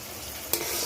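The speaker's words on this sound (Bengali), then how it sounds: "এটাকে ভালো করে একটু কষে নেবো, ভালো করে কষে নেবো। আমার মশলা থেকে তেল ছেড়ে গেছে।" Spice paste sizzles in hot oil in a pan, a short, soft frying hiss with a quick stirring scrape partway through.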